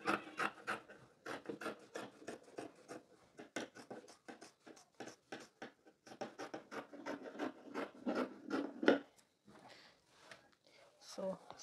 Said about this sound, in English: So I'll just cut out the side like this.